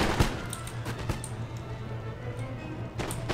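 Musket volleys in the battle game Empire Total War crack out in scattered, sharp reports over a low, steady battlefield drone, with a fresh cluster of shots near the end.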